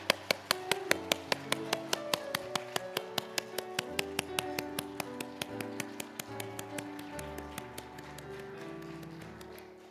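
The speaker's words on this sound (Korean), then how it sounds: "하나님께 영광의 박수 올려드리겠습니다." A church congregation clapping in steady unison, sharp regular beats about four per second, keeping time over sustained organ-like or keyboard music throughout.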